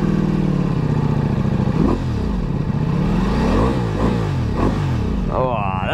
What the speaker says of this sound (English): just listen to the exhaust again.